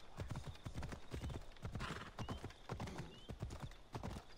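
Horse hooves clip-clopping in Assassin's Creed Odyssey, a rapid, even gallop of close, distinct hoofbeats running throughout, with a brief whinny partway through over faint outdoor ambience.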